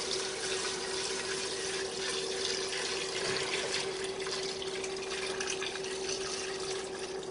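Water runs steadily from a tap into a pot while making chicha morada, a constant rushing splash with a faint ringing tone, heard close and alone throughout.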